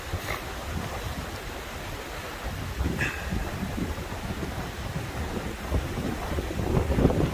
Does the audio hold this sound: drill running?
no